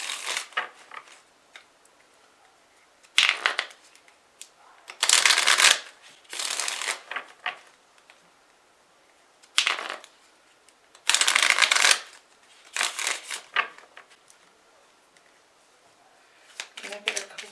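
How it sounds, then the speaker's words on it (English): An oracle card deck is shuffled in repeated bursts of crisp riffling and flicking, close and fairly quiet, with pauses between rounds. "Now I'm going to shuffle another deck"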